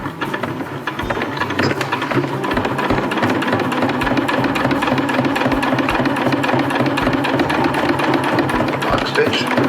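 A sewing machine runs a lock stitch through Dyneema fabric, a steady, loud, close mechanical whir with a fast rhythmic needle clatter that continues throughout.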